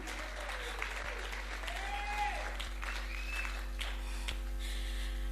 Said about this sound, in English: Let us continue clapping hands for him.